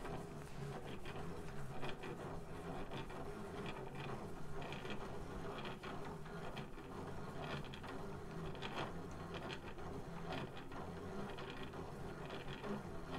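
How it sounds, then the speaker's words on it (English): A Stanwood Needlecraft yarn ball winder is cranked clockwise by hand while it winds a 3.5-ounce skein. It gives a steady, close, continuous whirring tick with an even rhythm, and no one speaks. "we're going to start rotating the handle. I always turn mine clockwise."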